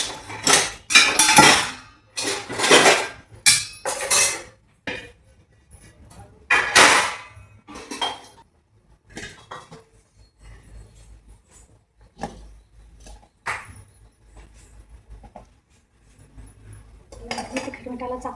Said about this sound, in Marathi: ही बेसिनमधली भांडी घासून घेते